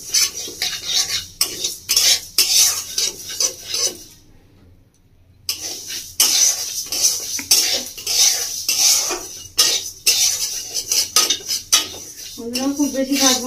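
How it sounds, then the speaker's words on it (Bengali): Mung dal dry-roasting in an unoiled pan, stirred with a utensil in repeated scraping strokes and light clinks against the metal, close and clear, with a brief pause partway. "মুগের ডালটা আমি শুকনো খোলায় একটু ভেজে নেবো"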